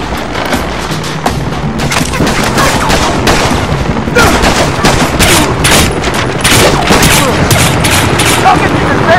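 Heavy gunfire erupts on a dock in the video game The Bourne Conspiracy, a loud, dense barrage of rapid shots and booms that runs almost without pause from start to finish, with a voice faintly under the shooting.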